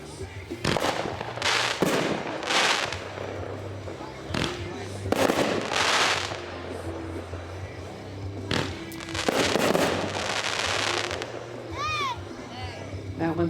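A fireworks cake fires ground mines and aerial shots in a run of loud booming bursts, crackles and a rising whistle, heard at a distance with voices in the background.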